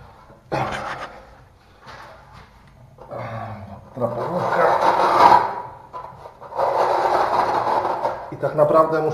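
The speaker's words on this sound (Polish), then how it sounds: "I teraz ja sobie je już skrobnę tak jak ma być." Rough, rasping scraping of plaster on a wall being prepared as a backing for tiles flush with the plaster, in long loud bursts separated by short pauses, with someone speaking at times.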